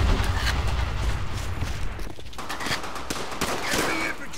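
Airstrike explosions in Call of Duty: World at War rumble and crack amid continuous battlefield gunfire, with heavy booming bursts layered over dense rattling shots throughout.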